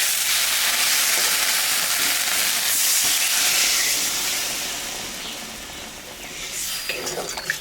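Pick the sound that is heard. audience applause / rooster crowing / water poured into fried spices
water poured into fried spices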